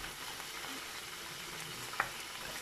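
Tuna pieces being stirred into spinach in a hot pan, giving a steady sizzle with stirring scrapes and one sharp utensil clack near the end.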